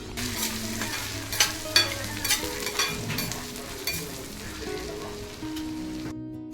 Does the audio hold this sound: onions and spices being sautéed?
yes